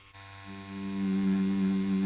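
A tattoo machine fitted with a 13 Magnum needle works colour into skin, giving a steady electric buzz that swells slightly louder and holds at close range.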